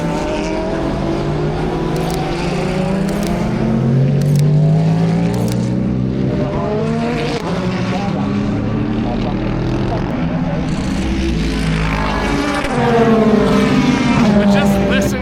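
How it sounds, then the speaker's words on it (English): Race cars lapping at the IMSA Daytona 24 hour endurance race: loud, sustained engine roar with rising and falling pitch sweeps as multiple cars pass close by, one blending into the next without a break. "just listen to the sounds of endurance racing"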